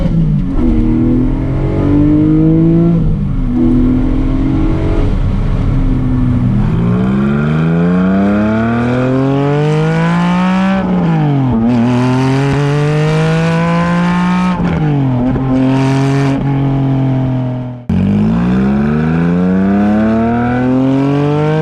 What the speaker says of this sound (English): Let's listen to this engine with this exhaust.